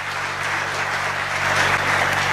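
Sustained applause from a large crowd at an election rally in Takhatpur, a dense, steady roar of clapping that holds at full strength and swells slightly toward the end, with no voices above it.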